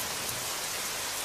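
Steady rain falls in a continuous, even hiss with no distinct drops or pauses, moderately loud and close, and no voices are heard.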